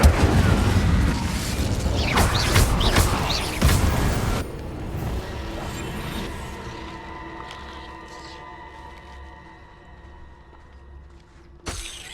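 A fire spell is cast in a video game, with a rumbling, crackling burst early on, then a quieter tail of ringing and low ambience that ends in one sharp hit.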